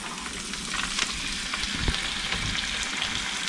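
Crawfish tails go into a pan of sizzling translucent onions, giving a continuous close frying hiss with a few soft stirring bumps and no talking.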